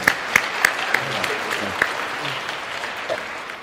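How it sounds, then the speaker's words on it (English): Debate audience applauding, scattered sharp claps over a soft steady patter of clapping that thins toward the end, heard at moderate distance. "Okay, so I'm going to applaud everybody."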